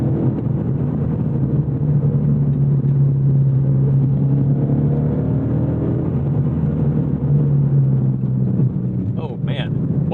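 A 2014 Ford Mustang GT S197 Track Pack V8 pulls at about 80% throttle on a track, a steady loud engine drone with sustained rising tones, and a brief higher burst near the end.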